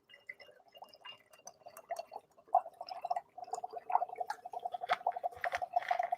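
Dry ice bubbles and gurgles in a Mountain Dew dessert, rapid close glugging pops that grow denser and louder, with no talk.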